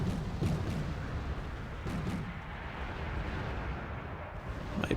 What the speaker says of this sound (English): now I'm receiving artillery